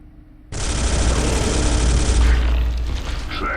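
Ranged weapons open fire in the Space Hulk video game, a sudden loud sustained burst of heavy automatic fire with a booming low end that rolls on for almost two seconds before tailing off into mechanical noise.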